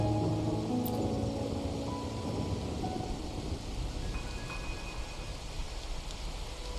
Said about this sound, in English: My granddaughter told me Raguna's rain is a bad omen.